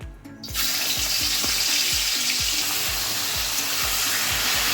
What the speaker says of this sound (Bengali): ইলিশ মাছের মাথাগুলোকে ভেজে নেবো আমি